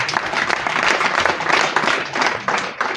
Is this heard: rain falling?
no